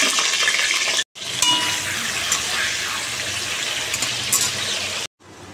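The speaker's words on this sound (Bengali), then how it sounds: "দেখো এখন আমি কটা পটল ভেজে নিচ্ছি" Pointed gourd fries in hot refined oil with a loud, steady sizzle and crackle close at hand. The sizzle breaks off twice with brief gaps. No one speaks.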